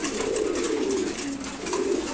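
Pigeons at a pigeon farm, including female birds kept in a separate pen, coo continuously and fairly loudly close by in a dense, overlapping chorus.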